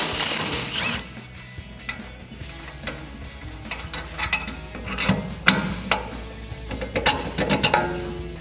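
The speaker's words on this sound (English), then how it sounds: "we can take a 15mm wrench on our bolt side and an 18mm socket on our nut side to take this off" A wrench and socket work loose the bottom suspension mount bolt and nut on a 2014-2020 Ford F-150, with close metallic clicks, ratcheting and clanks coming in irregular bursts that grow busier toward the end.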